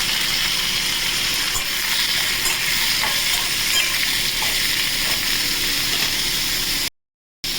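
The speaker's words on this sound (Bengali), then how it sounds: "কিছুক্ষণ এটাকে একটু ভেজে নেব" Potatoes and onions fry in hot oil in a pan for a prawn dopiaza, a steady close-up sizzle and crackle with faint stirring, ending in a brief dropout.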